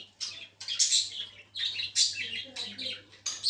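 Pet lovebirds chirp in quick, bright bursts during hand feeding, a run of close, fairly loud tweets and short calls with brief pauses between them.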